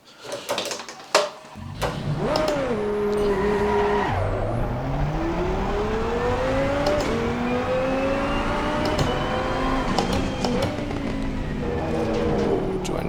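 A race car in a racing simulator game revs hard and screeches its tires as the engine pitch climbs and drops through gear changes, loud and continuous after a few opening knocks.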